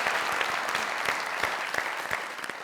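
Sustained applause from a studio audience at a talk show as an actress is welcomed onto the stage, dense and steady clapping throughout with scattered sharper claps, no voices.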